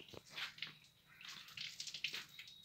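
Hands are washed under running tap water, with faint, close splashing and rubbing in short irregular bursts over a soft stream.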